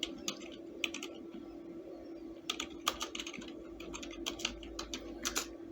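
Steady typing on a computer keyboard while a document is set up in MS Word, with irregular quick clusters of light key clicks over a low constant hum; no one talks.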